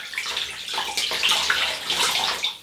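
Cold tap water runs and splashes continuously as a face is rinsed after a shave with a Muhle R94 Rocco razor, a close, bright, hissing stream with uneven splashes.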